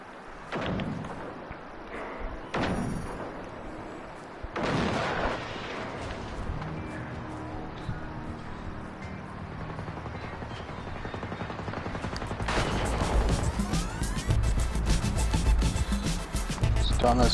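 Gunfire from a weapon in Fallout 76 at low volume: a few spaced single shots early on, then a denser, continuous barrage of rapid fire near the end, with some voices in the mix.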